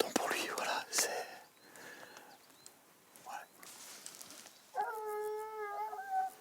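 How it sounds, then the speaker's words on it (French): Hunting dogs stirring below on a wild boar hunt, with faint scattered yelps and a brief howl-like rising tone near the end, set among quiet outdoor rustling. "En contrebas, les chiens s'agitent. Ils ont senti un sanglier."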